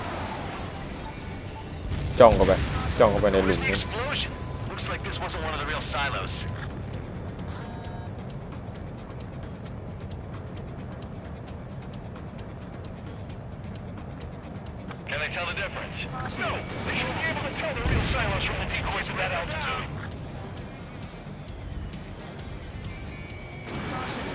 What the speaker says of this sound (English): Bunker buster away.